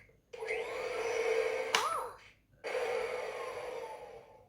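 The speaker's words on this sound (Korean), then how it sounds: "이렇게 청소기 소리도 나고 노래도 나기 때문에" A toy vacuum whirs in two bursts with a short break between them, a bright electronic hum with a brief squeak in the middle.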